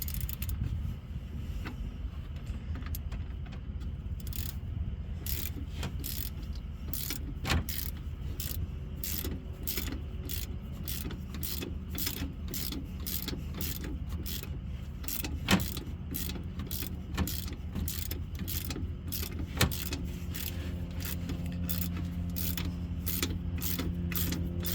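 A steering stabilizer bolt on a Jeep Grand Cherokee WJ is tightened with a ratchet, giving a long run of quick, evenly spaced metallic clicks up close, with a few sharper knocks along the way.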